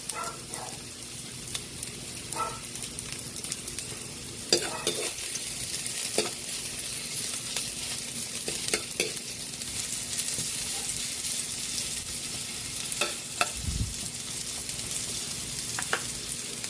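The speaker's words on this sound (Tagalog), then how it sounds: "Lagyan na rin natin yung bawang. Sabay na natin yung sibuyas." Garlic and onion sizzle steadily in a hot pan of oil, a loud continuous frying hiss with occasional stirring scrapes and clatter of a utensil.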